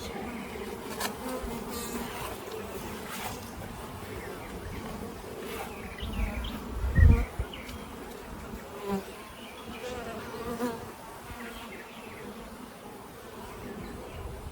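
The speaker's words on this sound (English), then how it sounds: "I've got mad bees flying around me from disturbing them too much" A small swarm of disturbed bees buzzes loudly all around, a dense continuous drone with individual insects zipping close past, with a brief thump midway.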